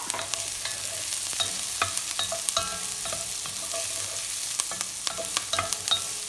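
Garlic frying in a pan for black bean soup, with a constant close sizzle and a spoon scraping and stirring it around in repeated bursts, fairly loud with no voices.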